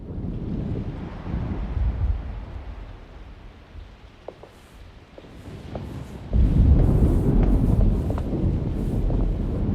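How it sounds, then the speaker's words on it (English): Thunder rolls in a storm in the video game Alone in the Dark, a low rumbling swell that builds and surges louder in the second half, with faint wind-like noise and a few soft clicks. "Looks like a storm's coming."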